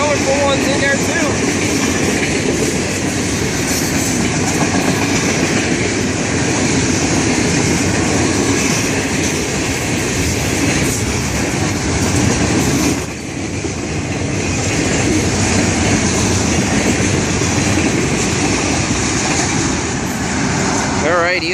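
A long FEC freight train rolls steadily past close by, a loud continuous rail roar with wheel clatter that holds for the whole stretch, dipping briefly midway, with a voice faintly in the mix.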